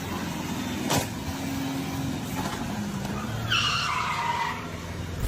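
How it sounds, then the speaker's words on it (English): A bus shoving and dragging a car along a road, with grinding scrape and tire squeal building toward the end over steady traffic noise, one sharp bang near the start. "showing the bus dragging the car along the road"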